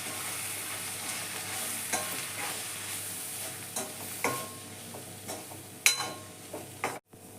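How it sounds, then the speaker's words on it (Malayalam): Garam masala is stirred into a prawn and drumstick curry frying in a pan. Soft sizzling runs under irregular scraping clicks from the spoon, with a few sharper knocks near the end. "നമുക്ക് നന്നായിട്ടൊന്ന് ഇളക്കാം."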